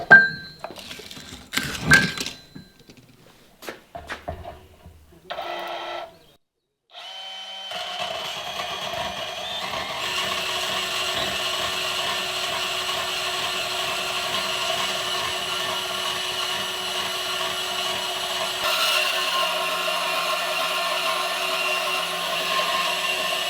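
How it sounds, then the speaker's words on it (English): Bandsaw grinding against a hardened steel trenching bucket pin: a few clanks and knocks while the steel is set up, a short pause, then a loud continuous metallic whine and rasp of the blade working on the pin. "So I'm going to see if my bandsaw will cut this."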